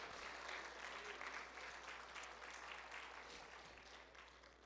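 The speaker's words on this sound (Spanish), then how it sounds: "Denle ese aplauso al Señor Jesucristo." Church congregation applauding the Lord during a Pentecostal-style sermon, a steady, dense wash of clapping sustained across the whole stretch at moderate level, fading slightly toward the end with no talk over it.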